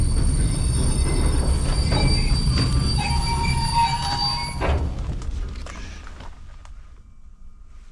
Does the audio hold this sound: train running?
yes